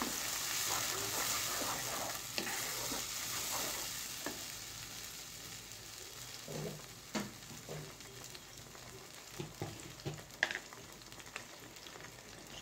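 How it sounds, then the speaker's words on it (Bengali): Blended garam masala fries in a pan for masala paneer, giving a steady soft sizzle with scattered pops and clicks as it is stirred, fairly quiet throughout. "এই মশলাটা বেশক্ষণ কষাতে হবে।"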